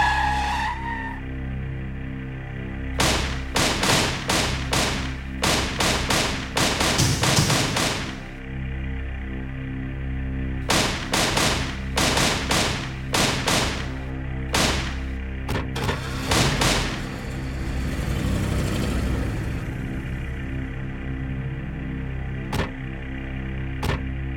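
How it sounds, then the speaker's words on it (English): Gunfire from an intense movie shootout rings out in sharp, rapid bursts, with volleys of loud shots separated by brief pauses, backed by tyre squeal and car noise, with no talk. "a few of them die in a very intense shootout, which I'll show you here"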